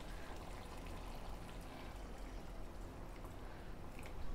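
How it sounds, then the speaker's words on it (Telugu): Water poured into a cooking pot during home curry cooking makes a faint, steady, unbroken splashing hiss that holds evenly throughout. "నీళ్ళు కొన్ని పోద్దాం."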